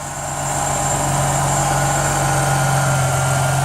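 A Ford BA XR6 engine runs at a steady, loud idle with a deep continuous hum and constant vibration in a workshop, the car up on a hoist after a power steering rack replacement.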